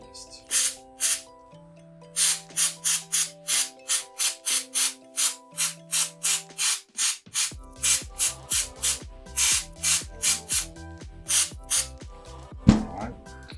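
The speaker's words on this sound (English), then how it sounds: "Brake cleaner, definitely not a best thing to do on aluminium, but that's what I'm going to use anyway." Brake cleaner sprayed from an aerosol can onto aluminium parts of a WLToys 124019 RC car, a long run of short, loud, rhythmic hissing bursts, roughly one per half second, over faint background music.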